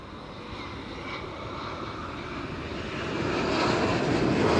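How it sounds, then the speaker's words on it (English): An Air Canada Boeing 787-8 Dreamliner arriving at Amsterdam Schiphol Airport, a broad jet roar heard from a distance that swells steadily louder as it approaches. "Arrival from Toronto, Canada, 7878 Dreamliner."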